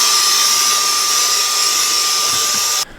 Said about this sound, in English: give it a little blast with a vacuum